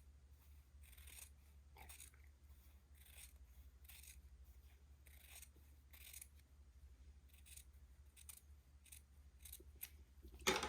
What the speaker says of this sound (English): Cut the excess batiste away from one side.